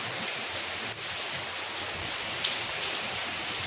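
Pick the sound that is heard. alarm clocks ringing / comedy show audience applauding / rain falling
rain falling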